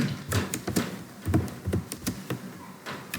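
Typing code on a computer keyboard: a quick, uneven run of light key taps close to the microphone, with no talk over it.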